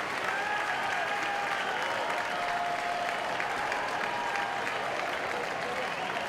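A crowd at an LSU baseball game claps steadily in sustained applause, a dense, even wash of hands that holds throughout with faint voices mixed in.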